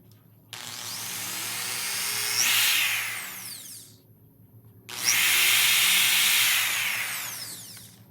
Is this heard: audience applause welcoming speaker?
no